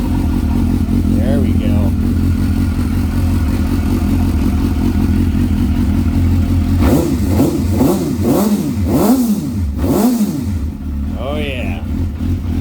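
A 2005 Suzuki GSX-R 600 sportbike with a Yoshimura carbon fiber RS3 exhaust idles loudly up close, then revs in a series of sharp throttle blips, with a man's brief remarks over it.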